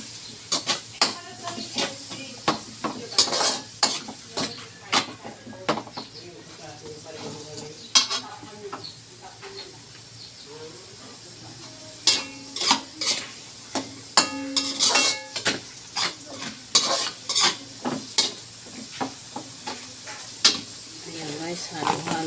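Chicken and mushroom pieces stirred in a pan for a butter mushroom dish, with repeated clinking scrapes of a utensil against the pan over a faint sizzle, heard close while a voice talks at times.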